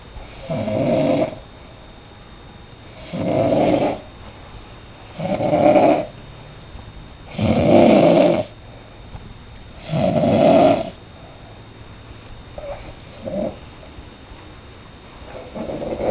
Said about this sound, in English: Here, Mama snoring.